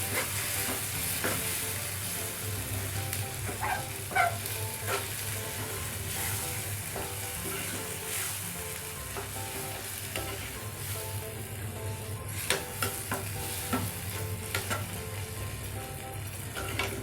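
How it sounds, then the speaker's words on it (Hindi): Brain (magaz) with tomatoes frying in a pan, a steady close sizzle with occasional clinks and scrapes of a spoon stirring throughout. "अब इसमें हम अब ये डाल देंगे मगज़ अपना, ये देखिए इसको अच्छी तरह से हमने भूनना है।"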